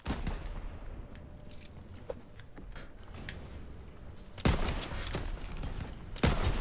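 Sniper rifle shots in a one-on-one snipers-only match of a first-person shooter game, two sharp, loud cracks a couple of seconds apart standing out over a quiet, low background rumble.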